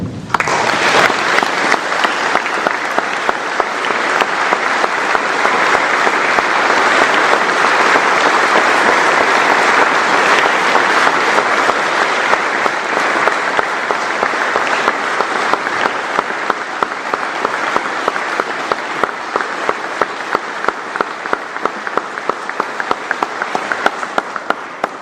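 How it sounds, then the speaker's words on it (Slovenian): Sustained farewell applause from an audience honouring a late musician, a thick, even roar of many hands clapping that holds steady for the whole stretch and thins slightly near the end. "mu namenimo naš poslednji aplavz"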